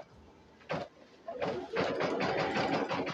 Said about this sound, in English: So I'll let that continue stitching.